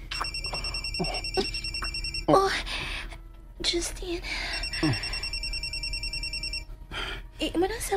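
A cellphone rings in a home, a repeating electronic ringtone pattern running through the whole stretch at moderate level while people talk over it, including a voice.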